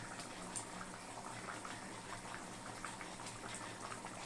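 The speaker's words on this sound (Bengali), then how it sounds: "ঝোলটা বেশ সুন্দর ফুটে উঠেছে আরও ভালো করে ফুটবে" Chicken and potato curry broth boils in a pot, giving a soft, steady bubbling and sizzling that continues evenly throughout, close and fairly quiet, with no voices.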